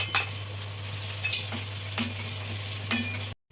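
Dried red chillies frying in hot oil, a soft steady sizzle broken by four sharp clinks of a utensil against the pan at roughly even intervals, with a low hum underneath.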